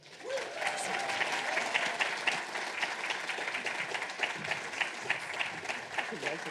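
Sustained audience applause at a leadership conference welcomes Amy Porter to the stage, a dense steady wash of clapping from a large crowd that holds at an even level throughout.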